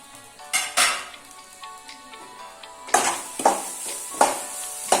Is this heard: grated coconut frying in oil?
yes